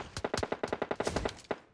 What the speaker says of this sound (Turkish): Buradan sıkıyor adam size.